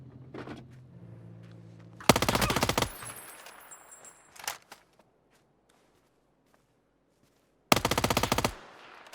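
JS-9 gun firing in a video game: two loud, rapid bursts of automatic shots, one early and one near the end, separated by a stretch of near silence with a few faint clicks.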